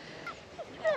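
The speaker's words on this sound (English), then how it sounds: "So you can hear in the background, that's my dog crying." A dog whines and cries in short excited bursts over a ball, three brief high whimpers rising out of a quiet room, the last one loudest.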